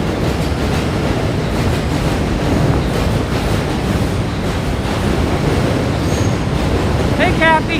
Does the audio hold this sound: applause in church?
no